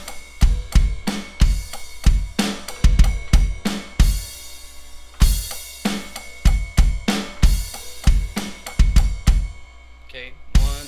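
A drum kit plays the double kick pattern from a song: paired bass drum hits alternate with snare and crash strikes in a steady, punchy groove, close and loud.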